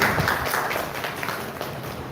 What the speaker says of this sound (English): So I request all participants to kindly applaud for our session chair, Dr. S.V. Moril.